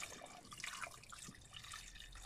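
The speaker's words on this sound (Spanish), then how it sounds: "vamos a echarle un poco más de agua" Water poured into a multi-cooker pot holding a whole chicken, a steady splashing, trickling stream running close by for the whole short stretch with no talk.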